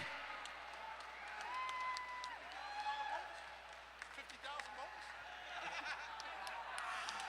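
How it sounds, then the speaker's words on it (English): A crowd at a mixed martial arts event claps and cheers after the fight, with scattered laughter, whistles and murmuring voices beneath a faint, fairly distant wash of applause. "a round of applause for two great fighters"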